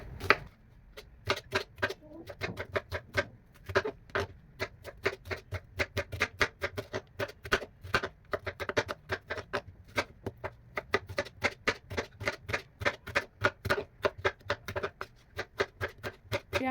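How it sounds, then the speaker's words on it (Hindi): Knife blade taps rapidly on a cutting board while two onions are chopped finely, a steady fast rhythm of crisp, close, moderately quiet strikes with no talking. "मैंने 2 अदद प्याज लिए हैं और इसकी जो है ना कटिंग कर लेनी है आपने बारीक"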